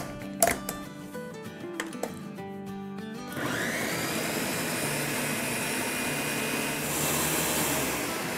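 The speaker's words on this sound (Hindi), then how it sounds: "इसको अच्छे से ब्लेंड करेंगे" A few clinks and knocks, then a blender blending mango with water into purée whirs up loudly and keeps running steadily, its motor pitch shifting slightly near the end.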